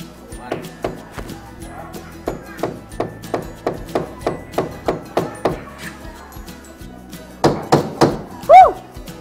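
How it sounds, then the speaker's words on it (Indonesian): Hammer blows drive nails into a ceiling frame hanger during house renovation, a steady series of sharp close thuds, roughly a dozen in quick rhythm, then a pause and a few louder strikes, with a voice briefly heard. "Waduh, ini kita dipaku nih. Kita paku ya."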